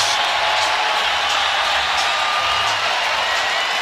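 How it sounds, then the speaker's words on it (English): A basketball arena crowd at a 2019 Warriors–Clippers playoff game roars loudly and steadily as a player fouls out, a dense wall of cheering with no clear single voice. "And this crowd goes berserk as they watch Beverly head to the bench."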